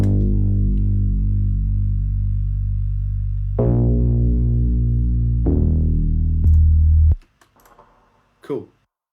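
Ableton Live Operator bass synth sounds a few deep sustained notes in the first octave, loud and buzzy, changing pitch in steps before cutting off, followed by faint clicks.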